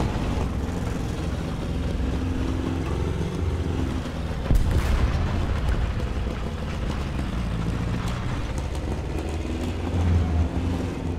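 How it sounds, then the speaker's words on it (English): The steady rumbling drone of a T-26 tank engine in War Thunder ground realistic battles runs continuously at even loudness, with a brief louder thump partway through and no talking. "A little bit of engine."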